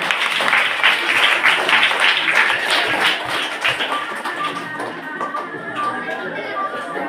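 Dense applause from students at a school function, loud and sustained at first, then thinning into scattered claps beneath murmuring voices.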